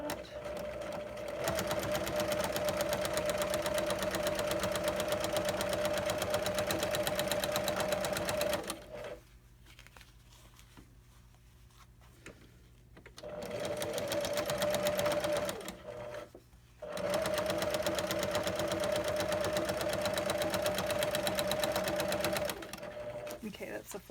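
Sewing machine stitching the flap edges of a cargo pocket, running in long steady bursts with a pause in the middle while a person talks over the work.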